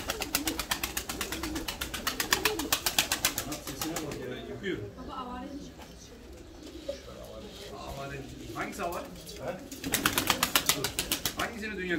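Şebap pigeons coo and flutter inside a crowded coop, with bursts of wing flapping near the start and end and soft cooing between, while people talk over the birds.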